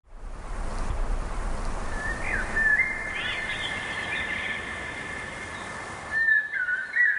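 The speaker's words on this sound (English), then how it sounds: "Ce chant, c'est celui du merle noir." Common blackbird song, a fluid whistled phrase rising above a dense, steady outdoor background hiss, moderately close, with a second short warble near the end and no speech.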